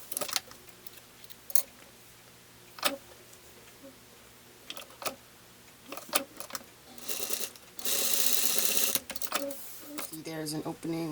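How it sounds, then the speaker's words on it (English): A sewing machine stitches a chiffon skirt seam, with scattered clicks and short whirs followed by a steady run of stitching near the end, as a voice talks in between. "So I'm going to stitch here and leave this part open and stitch again on the other side."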